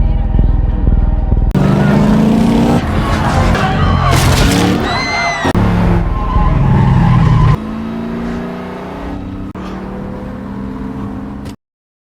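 Tires screech as a car skids and rams into people blocking the road in a film scene, loud engine and crash sounds mixed with crowd noise and dramatic music, ending abruptly.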